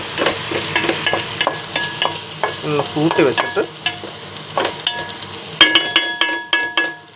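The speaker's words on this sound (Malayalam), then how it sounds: "അങ്ങനെ അതെല്ലാം അങ്ങിട്ട് വഴട്ടുക" Onions sautéing in a pan, with a bright sizzle under repeated rhythmic stirring scrapes and clinks of a spoon against the metal, close and loud; a voice speaks briefly over it.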